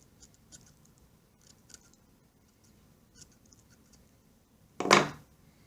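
A single short, crisp snip of scissors tapering a sand eel fishing fly near the end, with faint small taps and rustles before it in a quiet room.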